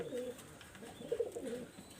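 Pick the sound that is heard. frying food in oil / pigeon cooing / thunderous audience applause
pigeon cooing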